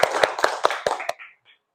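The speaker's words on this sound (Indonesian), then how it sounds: "Ya, tepuk tangan untuk kita semua." A group clapping together in a classroom session, six quick sharp claps in a steady rhythm, close and crisp, ending with a faint voice afterward.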